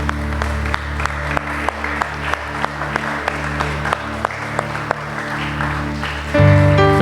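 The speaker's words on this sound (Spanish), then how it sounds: "le brindemos un fuerte aplauso a nuestras mamás" A church congregation gives a strong round of applause for the mothers, steady clapping that fills the room, with music swelling in near the end.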